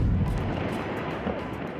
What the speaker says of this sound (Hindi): मिसाइल हमला होता है और आसमान को छूता आग का गोला फट पड़ता है, इमारत तबाह।